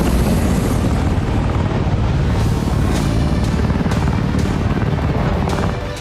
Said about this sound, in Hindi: रोड कंस्ट्रक्शन के दौरान यहां रूसी लड़ाकू हेलीकॉप्टर गश्त लगाते नजर आ रहे हैं।